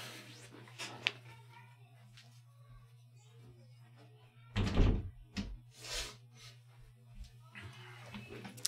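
A house door swings shut with one solid thunk partway through, heard at a distance over a steady low hum, with faint soft movement around it.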